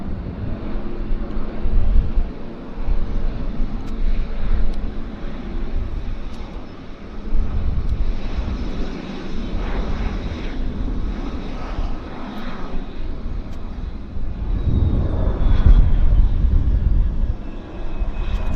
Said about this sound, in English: The Dreamliner's heading to Hong Kong. It's the Air Canada Flight 7 right there.